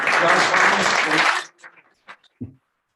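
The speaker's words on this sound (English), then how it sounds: "I think a round of applause is in order" Audience applause at the end of a brand identity design presentation, a dense burst of clapping for about a second and a half that cuts off sharply, followed by a few scattered faint claps and small noises.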